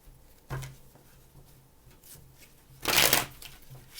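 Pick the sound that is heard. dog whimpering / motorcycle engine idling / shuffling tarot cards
shuffling tarot cards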